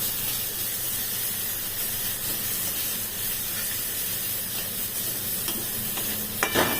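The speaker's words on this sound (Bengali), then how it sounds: "এই পেঁয়াজ রসুনের এই মশলাটা একটু ভেজে নিচ্ছি" An onion, garlic and spice paste fries in a pan for a Bengali bhetki fish dish, giving a steady close sizzle and hiss throughout, with a brief clatter near the end.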